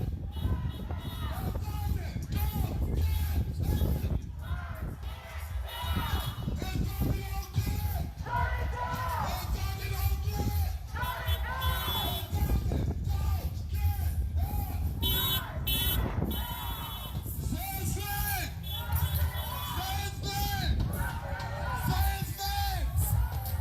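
Street protest crowd in Minneapolis for Daunte Wright, a dense noisy hubbub of many voices with scattered yells and shouts, close and continuous throughout, with nearby talk mixed in.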